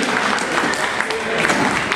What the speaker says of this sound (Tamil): எங்கேயோ வளர்ந்து வரும் இந்த கலைஞர்களுக்கு உங்கள் அன்பு கரகோஷத்தை அள்ளி வழங்குங்கள்